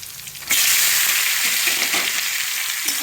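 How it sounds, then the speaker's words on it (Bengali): Chicken hits a hot pan with ginger and bursts into a loud, steady sizzle that stays close and continuous, with faint stirring underneath and no talking. "এবার আমি চিকেনটা দিয়ে দেবো।"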